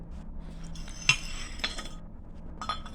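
Metal clutch and brake plates from a Massey tractor clinking and tapping together as they are handled, a few sharp light metallic chinks over quiet background.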